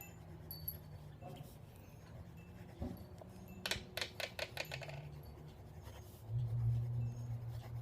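A medium-nib fountain pen scratches across paper in short strokes, quiet and close, with soft clusters of scribbling and faint background hum.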